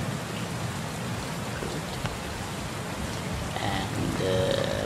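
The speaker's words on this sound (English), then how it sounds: "Okay, rain started." Steady rain from dynamic weather in an Unreal Engine 4 open-world scene, a continuous close hiss of falling drops that swells slightly near the end, with a brief voice heard once.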